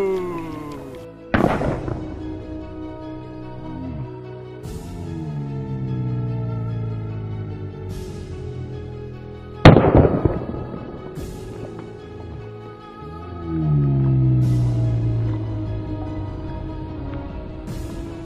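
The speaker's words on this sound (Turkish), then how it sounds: "Hemen bir tane daha torpil atıyorum hemen." Torpedo explosions in a space video game, two big sharp blasts several seconds apart, each trailing into a long rumbling decay with lingering debris sounds, plus smaller bangs between them.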